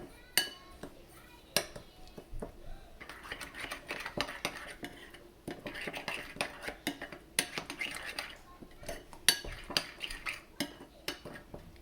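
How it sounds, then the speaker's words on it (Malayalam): A spoon mixes idli batter with curd and salt in a bowl, making repeated close metallic clinks and scrapes in an uneven stirring rhythm, with soft wet squelches between the sharper knocks. "ഇതിലേക്ക് ലേശം ഉപ്പും കൂടെ ആഡ് ചെയ്ത് കൊടുക്കാം. നമുക്കിതൊന്ന് മിക്സ് ചെയ്ത് കൊടുക്കാം."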